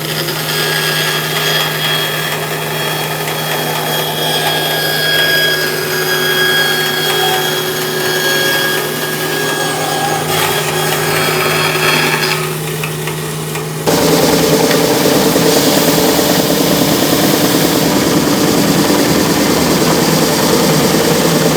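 A power saw cuts through a piece clamped in a drill-press vise, giving a loud, steady mechanical whine that turns rougher and louder partway through and runs without pause to the end.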